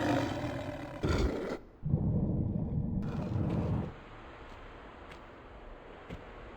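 A tiger roars loudly in the Tomb Raider video game, with two rough bursts close together followed by a lower growl that fades into quiet ambient noise.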